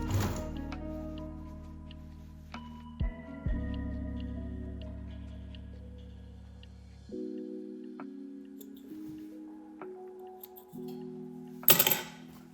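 Domestic sewing machine stitching a ruffle to a blouse sleeve edge, a steady motor hum in several even runs with short pauses and a brief clatter near the end, no talk.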